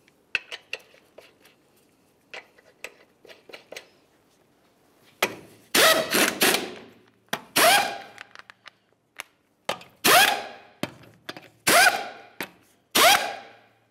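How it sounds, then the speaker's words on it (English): Lug nuts being run down by hand onto a Dodge Dakota wheel during an axle stub shaft job: faint metallic clicks and taps at first, then a series of loud, close bursts of clattering metal with short pauses between them. "Start on all five of your 22 millimeter lug nuts, bottom them out."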